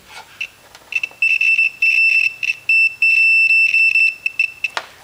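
A digital multimeter's continuity beep sounds as a probe meets the chassis of an electric pump while the earth connection is checked: a loud, steady high-pitched tone that comes in several on-off bursts, some short and some sustained for about a second.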